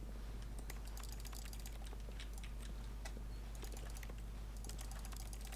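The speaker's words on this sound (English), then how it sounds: "I make a typing sound every time I hit use" Keys clatter in a quick, uneven run of typing on a keyboard in a video game, close and fairly quiet over a low steady hum.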